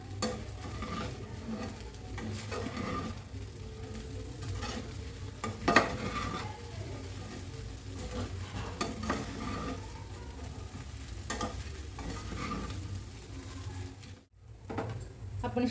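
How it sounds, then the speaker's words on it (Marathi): Sabudana khichdi with boiled potato, peanuts and salt is stirred in a pan over low heat, giving a steady close sizzle with repeated scraping and stirring strokes throughout, no voices. "चांगले हलवून घेऊ।"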